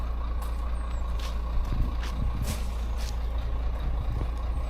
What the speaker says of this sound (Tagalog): Tayo makadaan, may truck.